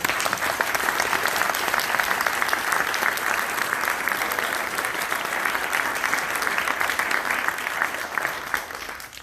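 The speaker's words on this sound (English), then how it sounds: "Let's give them a round of applause." Sustained, dense applause from a university audience honoring history students, a steady roar of many hands clapping at even loudness for the full stretch, tapering slightly at the end.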